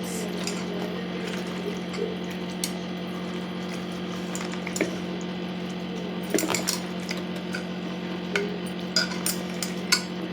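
Goat head curry ingredients being stirred together in a pot, a soft scraping and wet squelching with occasional light clinks of a utensil against metal, steady and close, over a constant low hum.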